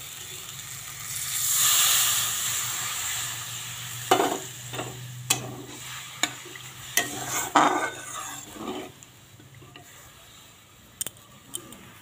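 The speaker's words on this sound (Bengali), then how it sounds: "এখন এই যে তেল বেরিয়েছে, এর মধ্যে আমি একটু বাটি ধোয়া জলটা দিয়ে দেব।" Kitchen sounds over a pan of fried spice paste for a brinjal dish: a soft hiss, then repeated sharp clinks and scrapes of a spoon against the pot, with faint sizzling beneath.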